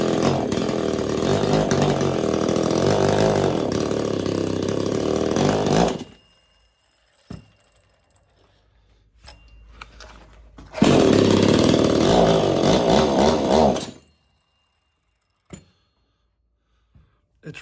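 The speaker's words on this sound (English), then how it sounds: "It's running like the timing is way off." A Craftsman S205 chainsaw engine runs roughly and loud for about six seconds, cuts out, then sputters back for another burst before dying again, with short quiet gaps holding faint clicks between the runs.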